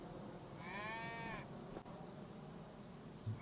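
A single cow moos once on a farm in the video game Farming Simulator 25, a drawn-out lowing call that sounds distant and faint over a steady ambient hiss.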